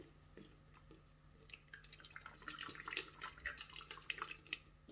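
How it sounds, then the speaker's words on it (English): Water drains down through dry begonia potting mix in a pot, giving faint, close trickles and scattered drips that rise and fall over a few seconds with no talk. "It's draining all the way through."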